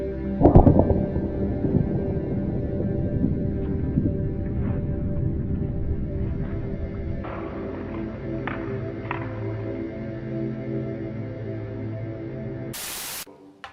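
A butane lighter shot with an air-gun pellet bursts in one sharp, loud crack, followed by a long hissing spray of escaping gas that fades beneath a steady background hum.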